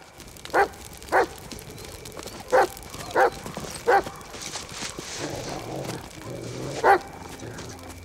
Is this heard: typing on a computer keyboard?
no